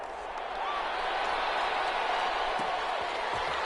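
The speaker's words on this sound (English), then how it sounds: "How about some applause for the defense there?" Broad, steady crowd applause from a stadium in the American football video game Madden 21, holding a sustained wash of clapping and noise throughout, with a few faint thumps mixed in.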